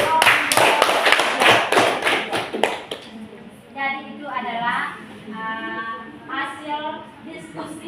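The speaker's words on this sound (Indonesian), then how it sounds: "kita tepuk tangan dulu dari kelompok" Students in a junior high classroom clap together in a quick rhythmic burst of loud, close handclaps for about three seconds, then children's voices take over as the clapping stops.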